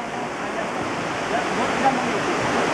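A small mountain river rushes in a steady, close, broadband wash that stays even in loudness throughout.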